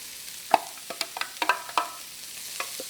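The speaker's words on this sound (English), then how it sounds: "Now I'm going to add the tofu" Shredded tofu and carrots are stir-fried with ginger and garlic in a pan, with a quick series of spatula clacks and scrapes over a light sizzle, close and short.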